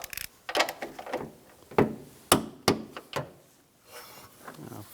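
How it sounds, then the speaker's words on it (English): Toyota Prius front strut nuts being tightened with the car on the ground, torqued to 29 foot-pounds: a series of sharp metallic ratchet clicks and clanks in uneven bursts, close and fairly loud, with no voices. "With the vehicle on the ground, we're going to tighten these nuts."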